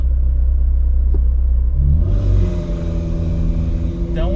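Ferrari 488 Spider turbocharged engine with a 7-speed Getrag gearbox revving loudly close by, a steady low rumble that climbs in pitch about halfway through and then holds a higher, raspier note.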